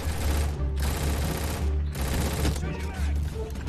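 Loud, sustained gunfire in the Roblox shooter RECOIL, with several automatic bursts separated by short gaps and a voice talking underneath.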